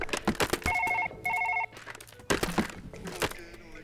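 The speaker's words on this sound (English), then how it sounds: "the fucking phone's ringing" Two ringing bursts from a telephone in Surgeon Simulator 2013 sound clearly, an electronic bell tone repeating with a short gap, surrounded by clattering game noises and someone talking.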